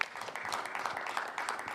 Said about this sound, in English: How about a round of applause for all of our amazing donors, folks?